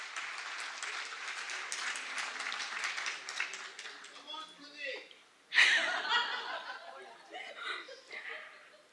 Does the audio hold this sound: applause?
yes